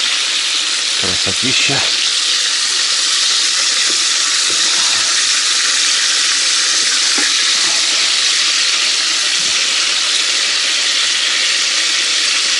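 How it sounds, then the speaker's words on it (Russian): Chicken tabaka fries loudly in a pan, a dense, steady sizzle that fills the whole stretch while a voice speaks briefly near the start. "и буду обжаривать со второй стороны"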